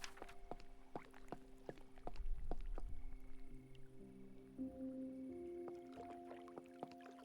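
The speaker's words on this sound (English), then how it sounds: "I love listening to water" Gentle water ambience from the vampire video game Cabernet, soft lapping and sloshing with a brief louder splash around the middle, mixed with steady game music tones and no talking.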